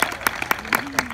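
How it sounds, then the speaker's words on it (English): Scattered clapping from a small audience at a groundbreaking event for a health and wellness center, sparse distinct claps with a voice speaking over them. "let's have a big round of applause for that"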